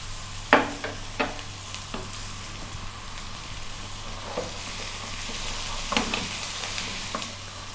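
Carrots and potato go into a hot pot for a vegan vegetable hotpot, with a steady low sizzle, a few sharp stirring knocks and scrapes near the start and the end, and a faint hum underneath.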